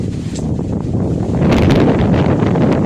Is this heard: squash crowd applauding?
no